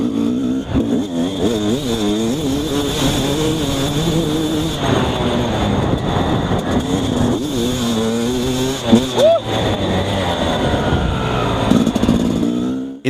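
An XTNG GEN3+ 36 engine runs loud and close under load in second gear during a torque test, its droning tone wavering and rising through revs, with a person speaking over it.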